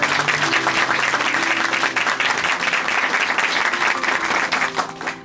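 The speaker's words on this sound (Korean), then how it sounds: "앞으로도 더 힘내시라고 함께 박수로 응원해 드리겠습니다." Studio audience at a Korean Christian testimony program gives warm, sustained applause, many hands clapping loudly and steadily throughout with no break.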